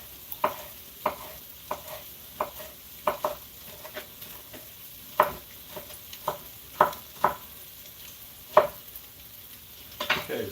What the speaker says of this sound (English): as soon as our butter's melted here